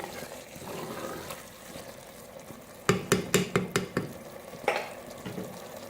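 Turnip curry being mixed in a pan, a soft background sizzle with a quick run of sharp spoon-on-pan knocks midway and one more knock shortly after, close and fairly quiet.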